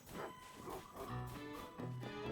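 Dogs barking and yipping in the video game The Legend of Zelda: Tears of the Kingdom, several short faint yaps over a steady ambient game background with tonal music.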